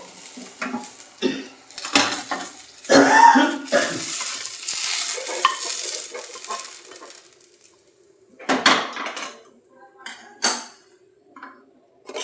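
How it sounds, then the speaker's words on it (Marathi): Roasted chilies are scraped from a hot pan onto a plate, giving irregular close clinks, scrapes and stirring bursts over a faint sizzle, with quiet gaps between, and no talking. "आता आपली मिरची भाजली गेली प्लेटमध्ये काढून घेऊ"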